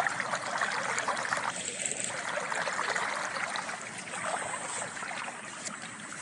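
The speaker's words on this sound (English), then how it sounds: "And this water's still rushing down." Floodwater rushes down through a garden in a steady, loud, broadband wash that continues without break from start to finish, with no voices.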